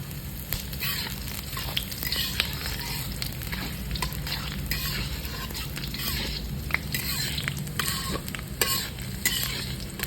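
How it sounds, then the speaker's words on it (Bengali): Chopped garlic frying in very hot oil until red, a dense continuous sizzle with constant stirring scrapes and crackles, close and steady throughout. "এবারে দেব আমি কাটা রসুন রসুনটা লাল করে ভেজে নেবো"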